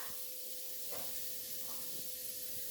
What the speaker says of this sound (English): So you hear it sizzling. That's how you know it's hot.